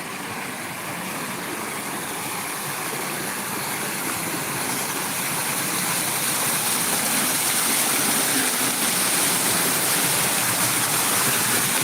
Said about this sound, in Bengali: ভালো লাগে জমজম আওয়াজ জলে